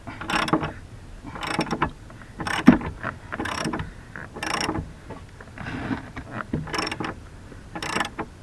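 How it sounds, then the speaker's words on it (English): A ratchet wrench with an 11/16 socket turns the rear nuts on a van's swivel seat base, giving bursts of close, rapid metallic clicking that come in repeated strokes separated by short pauses. "the back bolts are actually nuts to 11/16 ratchets"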